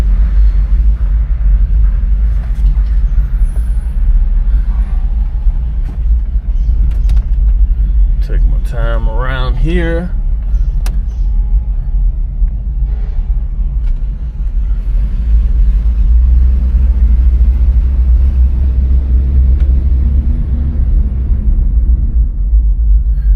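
A 1983 Chevrolet K5 Blazer engine rumbles steadily while driving, low and constant, with someone talking briefly over the drone.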